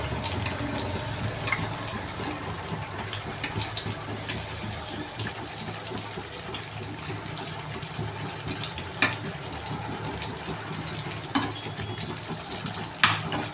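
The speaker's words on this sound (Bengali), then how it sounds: "এই সাইডটাও ভালো করে একটুখানি ভেজে নেব।" Fish roe fritters fry in oil in a pan, a steady close crackling hiss with scattered sharper pops throughout.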